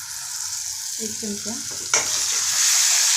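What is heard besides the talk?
vegetables sautéing in a pan with chilli and sauce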